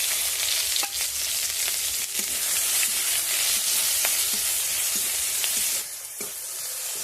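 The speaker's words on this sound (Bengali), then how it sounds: "পেঁয়াজটা ভাজা হয়ে গেছে।" Finely chopped onions fry in hot oil with panch phoron and a bay leaf, for a prawn and cauliflower curry. A steady, close, loud sizzle runs throughout with a few light stirring clicks and no talk.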